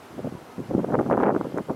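Strong gusty wind from a winter snowstorm in New Jersey, a short burst of rumbling microphone buffeting that swells and fades close by.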